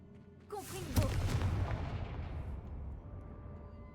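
A fiery Confringo spell in the Hogwarts Legacy video game goes off as a sharp blast with a deep booming rumble that rolls on and slowly fades.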